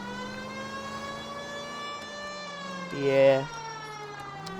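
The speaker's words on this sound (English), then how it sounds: "We're cops. We have our siren." A police car siren from the video game L.A. Noire wails in a steady, slowly gliding tone throughout, with a brief spoken word partway through.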